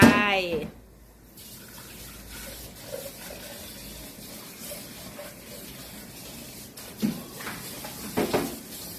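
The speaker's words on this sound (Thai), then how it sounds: "ทีนี้เราก็จะเอาน้ำล่างคกลงแล้วเด้อค่ะ นี่น้ำล่างคกของเขา จะเอาลงไป" Rice-washing water poured into a cooking pot while making a Thai Isan-style om dish with egg, a brief splash early on, then soft running water under background noise with faint clatter near the end.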